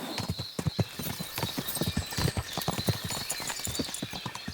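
Horse hooves in Kingdom Come Deliverance II, a rapid, even clip-clop of hoofbeats close by, running steadily throughout with no pauses.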